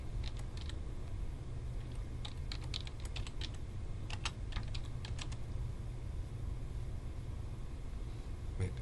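Typing on a computer keyboard, bursts of quick soft key clicks scattered through the middle over a steady low background hum, close and moderately quiet.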